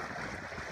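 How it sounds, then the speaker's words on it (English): Cascade Falls on the Lake Superior shore pours with a steady, broadband rush of falling water, continuous and fairly close, with no voices. "Cascade Falls."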